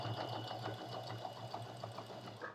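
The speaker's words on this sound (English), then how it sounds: "keep sewing around the edge, make sure I'm catching both sides" A sewing machine stitches around the edge of a fabric bowl cozy, a steady close mechanical whir with a fast, even stitching pulse throughout.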